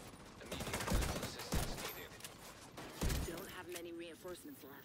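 M1A rifle shots in the video game The Division 2 sound as a few heavy, spaced reports amid game action, moderately loud, with a voice talking partway through.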